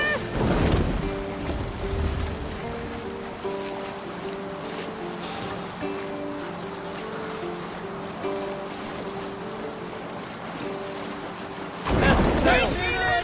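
A sailing ship cuts through waves in the video game Assassin's Creed Valhalla, with rushing water, wind and creaking hull. Louder surging splashes open and close the passage, and a sustained tonal background sits beneath.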